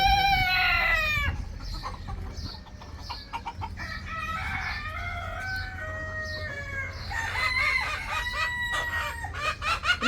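Chickens on a farm clucking over and over, with a rooster crowing loudly nearby and other fowl calling in the background.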